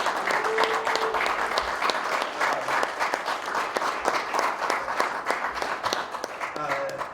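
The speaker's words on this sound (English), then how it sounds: "She's gotten the biggest applause of the night so far." Sustained audience applause fills a civic event hall in Manhattan, dense clapping holding steady and loud throughout with no speech over it.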